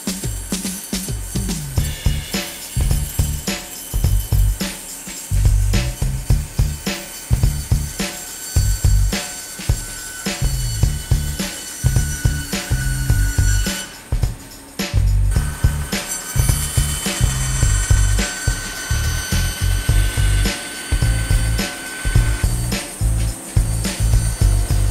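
A bandsaw cuts through a wooden armchair arm: a running machine hum beneath repeated low, thudding surges as the blade works the wood, close and fairly loud throughout.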